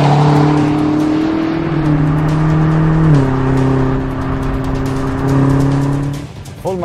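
A BMW M8 sports car's engine roars loudly under hard acceleration, its pitch climbing and dropping twice with quick gear shifts, close and steady throughout.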